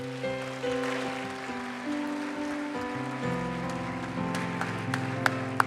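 Applause at a church lay training graduation ceremony, a soft, continuous patter of clapping under sustained organ or keyboard tones, with a few sharper claps near the end.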